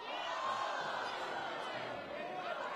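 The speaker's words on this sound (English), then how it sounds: "you can hear the crowd just following every shot attempt" A crowd at a live prime-time basketball game hums with a steady, distant roar of chatter and swelling reactions, with a commentator's voice faintly over it.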